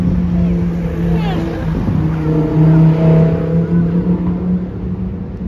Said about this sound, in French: Trafic de fou Monaco. Écoutez, écoutez, ça arrive de tous les sens.